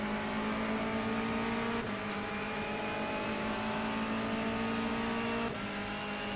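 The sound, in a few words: Honda Civic race car engine, video game rFactor 2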